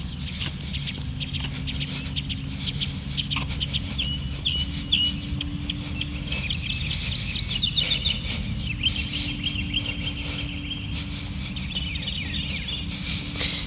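Small birds chirp and tweet intermittently in the distance over a steady low outdoor hum, faint and scattered.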